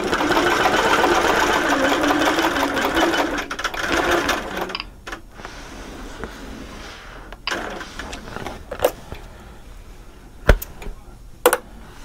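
A sewing machine bastes down fabric edges in a steady, close stitching run for about four seconds, then stops, followed by scattered clicks, taps and handling noises.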